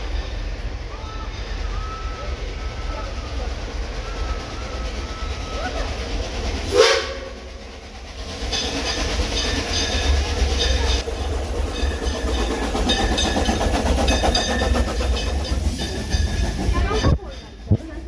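An amusement park ride train rolls and brakes, a steady rumble broken by a sharp hiss of air brakes, then continuing rolling noise with a clunk near the end, voices faintly present.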